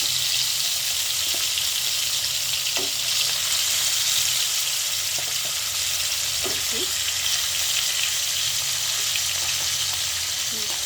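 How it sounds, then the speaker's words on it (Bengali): Taki fish fry in hot oil with a loud, constant sizzle that holds steady throughout, with a few faint clinks of handling and no voices. "এভাবে লাল লাল করে একবার ভেজে নিয়ে দেখাচ্ছি।"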